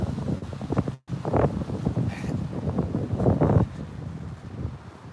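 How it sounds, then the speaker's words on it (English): Gusty outdoor wind buffets the microphone near an intersection, a steady broadband roar with rising and falling surges and a brief dropout, with a faint engine rumble mixed in. "It's getting windy right now."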